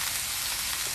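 Bacon frying on an outdoor grill during camp-style cooking, a steady dense sizzle and hiss filling the whole moment at close range with no voices.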